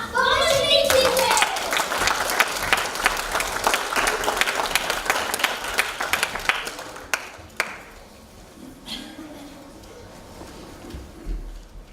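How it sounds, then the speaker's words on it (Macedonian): Audience applause for the helpers at a children's humanitarian musical stage show, dense clapping with a few children's voices over it for about seven seconds, then fading into scattered claps and quiet room noise. "Дами и господа, ве молиме за аплауз за помощниците!"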